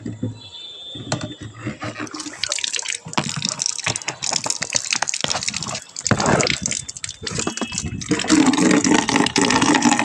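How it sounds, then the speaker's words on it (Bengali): Water runs from an outdoor tap into a bucket in a steady, splashing gush that swells louder near the end, with voices nearby. "একটুখানি জলটা ভরে নেব।"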